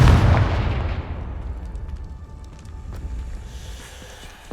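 A Confringo spell explodes in the Harry Potter video game, a loud close blast that fades into a long rumbling decay, followed by a few faint crackling debris pops.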